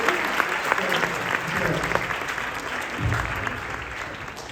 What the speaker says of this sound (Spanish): Por favor, un aplauso para todos ellos.